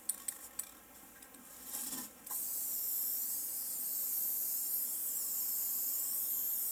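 A spray paint can hissing a continuous, loud, steady jet onto the glass of an aquarium tank to paint its background, following a few short light clicks and rattles.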